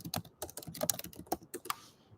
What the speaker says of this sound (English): Time to go in another tab and type out Red Dragon